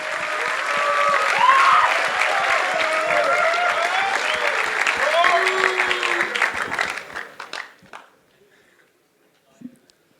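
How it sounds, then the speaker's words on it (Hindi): Dense audience applause fills a teachers' meet-up hall, loud and sustained for about seven seconds before it thins out and fades, with a few scattered claps and crowd murmur following. "तालियों की गड़गड़ाहट रुकनी नहीं चाहिए।"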